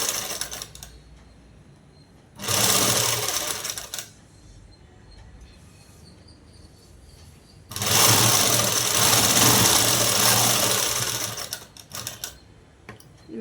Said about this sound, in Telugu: ఇలా కుట్టు వేసుకున్న తర్వాత ఈ క్యాన్వాస్ మీద కుట్టు అనేది వేసేసుకున్నాము.